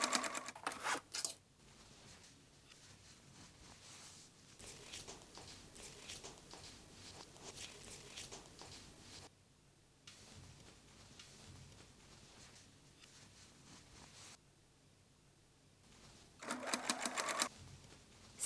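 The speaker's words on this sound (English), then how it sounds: "Stitch handles to panel and sew one side seam." A sewing machine runs a seam on a travel bag made from an old shirt, stitching the handles to the panel, in quiet, steady bursts broken by pauses, with louder rattling handling sounds near the start and end.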